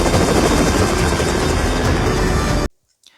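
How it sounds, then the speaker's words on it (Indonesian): Loud, dense rotor-like chopping and roar of a helicopter, mixed with rapid bursts that resemble gunfire, cutting off abruptly into near silence at the end. "pasukan bertopeng itu menyelamatkan Karisma, lalu membawanya menggunakan helikopter."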